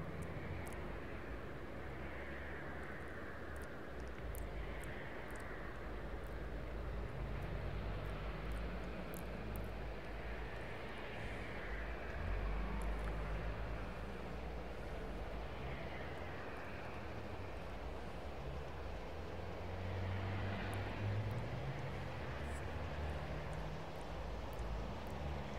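Aircraft taxiing at an airport in the air traffic control game Tower 3D Pro, a steady low jet engine rumble and whine that stays constant and even throughout, with no voices.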